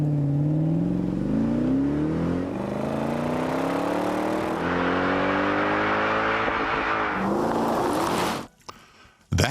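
A Mercedes ML 63 AMG with a naturally aspirated six-litre engine accelerates hard, its loud, rising roar climbing through several gears with brief dips at each shift before cutting off abruptly.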